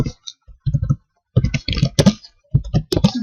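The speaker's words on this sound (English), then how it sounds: "Like if I write here," Keystrokes on a computer keyboard tapped in short bursts of clicks with brief pauses between groups, close and fairly loud, with no voices.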